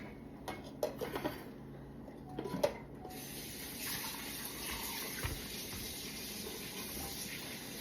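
Tap water running into a pot for boiling in a home kitchen while making Jamaican plantain peanut porridge; a few clanks of the pot come first, then a steady hissing stream fills it without pause.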